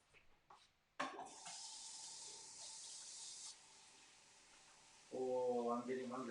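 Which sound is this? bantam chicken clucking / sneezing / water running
water running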